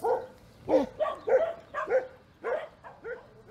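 Dogs at a shelter's outdoor yard on Spain's Costa del Sol bark and yip in a quick series of sharp, close calls with whimpery edges, several bursts spaced under a second apart and no talk over them.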